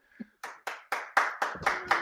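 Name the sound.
applause for wrestler Roadblock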